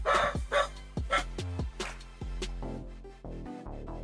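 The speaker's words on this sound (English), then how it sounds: "The dogs are barking." Several dogs bark in short, irregular bursts, loud and close, with a few yips and whimpering notes between the barks and no talk over them.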